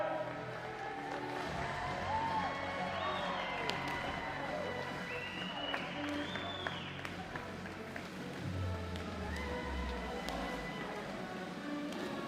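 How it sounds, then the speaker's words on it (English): Audience applause at an international diving competition, a steady, fairly distant wash of clapping and crowd noise with faint cheering, continuing throughout. "Let's give it a good clap, guys."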